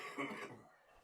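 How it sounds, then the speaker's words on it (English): A single cough bursts out near the mic, fairly loud at first and then trailing off into quieter breathy noise within about a second, with no talking over it. "He's turning my volumes down so he can cough."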